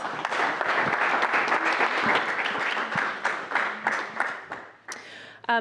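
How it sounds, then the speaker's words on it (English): An audience at a leadership forum in Lancaster breaks into sustained applause, dense and steady for about five seconds before thinning out, with a brief sound at the very end. "Let's give Jen another round of applause."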